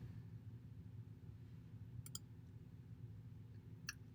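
Two quick faint clicks of a computer mouse, a close pair followed later by another click, over a steady low hum with no talking.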